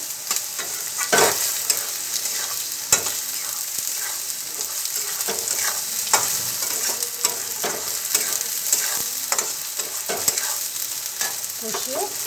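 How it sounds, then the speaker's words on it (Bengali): Ghugni being stirred and fried in a pan, a continuous close sizzle broken by frequent scraping spoon strokes at an uneven pace, with no talking heard. "স্বাদ অনুসারে একটু চিনি দিয়ে দেবো চিনি দিয়ে দিলাম দিয়ে এটাকে ভালো করে কষিয়ে"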